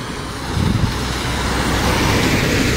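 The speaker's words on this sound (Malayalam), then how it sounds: "മണ്ണാർക്കാട് നിന്ന് വരുന്ന ബസ്സാണ് അത്" A bus coming from Mannarkkad and heading to Anakkatti in Attappadi passes along the road nearby, its low engine rumble and tyre roar swelling and holding steady over a few seconds with no talking.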